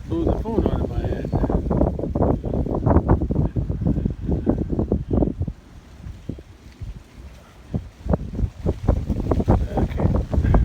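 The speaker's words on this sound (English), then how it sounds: "Almost blew the phone out of my head." Strong cold south wind buffets a phone microphone outdoors near a barn, with loud irregular rumbling gusts rising and falling throughout and no other clear sounds.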